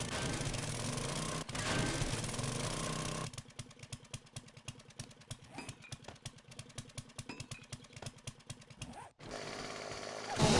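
Loud chainsaw in the survival game 7 Days to Die, running in a rapid stuttering burst of revving pulses between steadier stretches of game noise, close and alone with no voices.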